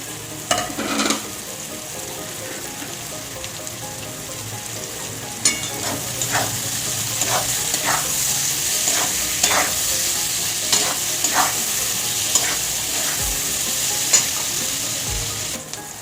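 Thinly sliced onions, cut long, frying in a pan alongside capsicum, a steady close sizzle broken by repeated scraping stirs of a spatula, with no voices.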